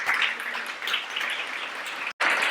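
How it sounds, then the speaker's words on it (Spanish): A church congregation gives steady applause during a Spanish-language service, a dense wash of clapping lasting a couple of seconds with a brief cut near the end. "Denle un aplauso al Señor porque Él es bueno."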